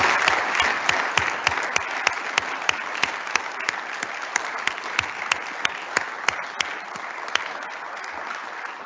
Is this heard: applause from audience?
yes